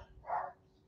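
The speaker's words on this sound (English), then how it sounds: "my dogs have to bark at everything" One short, muffled dog bark sounds from a room nearby during a thrift haul at home, faint and alone.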